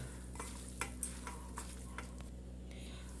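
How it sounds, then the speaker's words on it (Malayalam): Small onions being mixed by hand with chili powder and ground masala in a bowl, soft scraping and light clinks repeated irregularly, faint and close over a steady low hum. "ഇതിലേക്ക് മുളക് പൊടി ഒന്ന് ഇട്ട് കൊടുക്കണേ കേട്ടോ നല്ലോണം ഒന്ന് മിക്സ് ചെയ്തെടുക്കാം കേട്ടോ"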